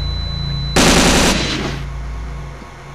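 A burst of machine gun fire in a horror film, a loud rapid volley of shots lasting about a second, then a brief ringing tail over a steady low hum.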